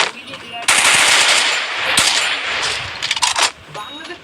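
A motorbike engine rips loudly while the rider holds a wheelie, a harsh close rattling roar that stays steady for a few seconds, then breaks into choppy bursts and fades.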